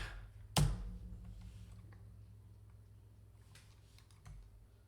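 Typing on a computer keyboard: one dull knock followed by sparse, faint clicks of keys, quiet and close with no talk.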